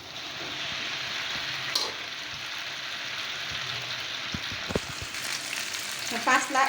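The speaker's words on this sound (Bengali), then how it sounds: "এখন আমি পাস্তাগুলি ঢেলে দিচ্ছি।" Pasta poured into a hot pan with chili powder and spices for egg chicken pasta, a steady loud sizzle of frying under scattered clinks and a burst of stirring near the end.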